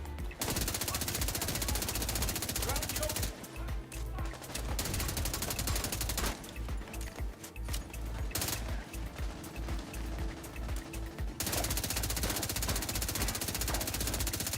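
Sustained gunfire in The Division 2 fills most of the stretch, with rapid automatic bursts that break off briefly and then resume, set behind a steady game background bed without speech.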